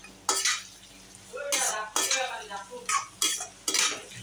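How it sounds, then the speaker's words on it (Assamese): Ginger garlic paste is stirred in a pan, heard as repeated scraping strokes of a utensil against metal in short bursts, close and fairly loud over a faint sizzle. "লৰাই থাকিব, আদা নহৰু পেষ্টটো দি ধুনীয়াকৈ লৰাই থাকিব, অলপ টাইম লৰাই থাকিব।"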